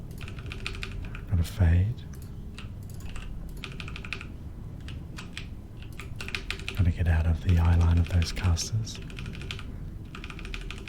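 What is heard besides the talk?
typing on a computer keyboard while playing World of Warcraft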